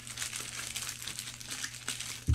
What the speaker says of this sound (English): Alright, we're gonna do the pack shuffle here.